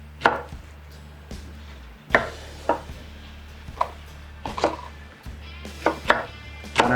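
A knife chops okra into half-inch chunks on a cutting board, giving about a dozen sharp, separate thuds at an uneven pace, close and clear with no talking.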